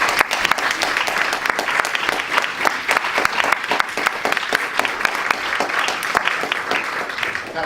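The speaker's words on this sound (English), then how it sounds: "a round of applause for our speakers tonight" A live audience at an evening talk on trust fundraising claps in a sustained, dense round of applause, even and steady from start to finish with no pauses.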